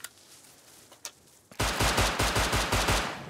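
Gunfire in the survival video game Rust, a couple of isolated shots followed by a rapid burst of about eight loud, closely spaced shots.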